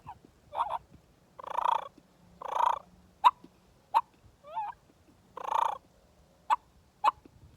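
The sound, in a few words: turkey whines, whistles and purrs imitated on a mouth call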